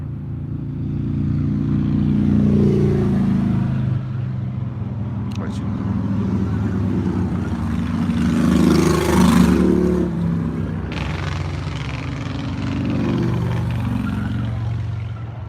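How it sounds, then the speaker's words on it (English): Motorcycles pass by outside during a live stream: a steady, loud engine drone that swells and fades as the bikes go by, with a voice talking over the noise. "Just fucking motorcycles."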